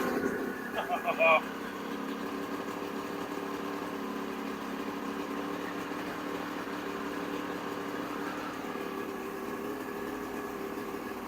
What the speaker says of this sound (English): ignition switch on and start